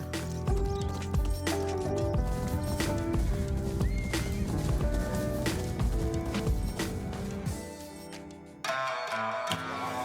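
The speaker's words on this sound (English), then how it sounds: "Just riding my horse through the city" A horse in the video game Ghost of Yotei neighs and its hooves clip-clop steadily over a dense bed of music, the sounds loud and close throughout.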